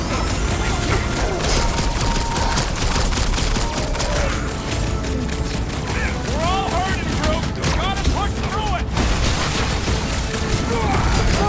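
Gunfire in Marvel's Guardians of the Galaxy comes as dense, continuous, loud bursts in the thick of battle, mixed with other combat noise and shouted dialogue.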